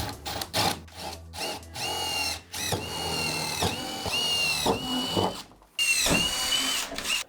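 A power drill whines in several bursts while boring a hole in the sliding door panel of a Ford Transit van, with the motor's pitch rising and falling as it catches and slows, close by.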